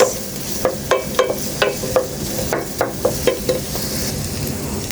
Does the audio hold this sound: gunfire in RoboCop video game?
no